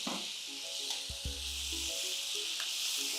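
Potato pieces and tomato fry in a pan for an Andhra-style dish, giving a continuous close, bright sizzle with a brief low scrape or stir partway through and no talk.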